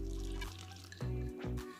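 Ice water with a few ice pieces in it goes into a pie dough mixture in short, close, quiet pours and drips that start and stop.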